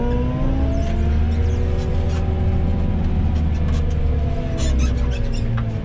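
A JCB 541-70 AgriPlus telehandler's diesel engine rumbles loud and close as the machine pulls away, its pitch rising and falling as it accelerates, steady throughout with no talk.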